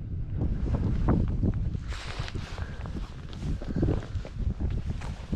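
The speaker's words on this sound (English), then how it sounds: "I do apologise for the wind at this point in the adventure." Strong wind buffets an outdoor microphone in a wild Scottish glen, a loud low rumbling roar that surges and dips continuously throughout.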